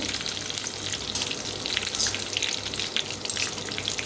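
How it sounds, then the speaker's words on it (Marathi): Curry leaves frying in hot oil while making crisp semolina sev, a loud, dense crackling sizzle that continues steadily up close. "कढीपत्ता जरा टाकताना तळताना लांब सरा छान क्रिस्पी उपत तळून घेऊया"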